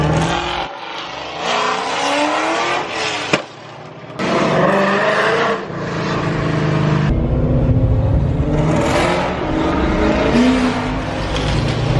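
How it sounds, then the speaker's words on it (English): A 2020 Shelby GT500 at a car meet revs its engine loudly and continuously, the note rising and falling through repeated throttle blips, close by and filling the scene. "Oh, that GT500 is still revving."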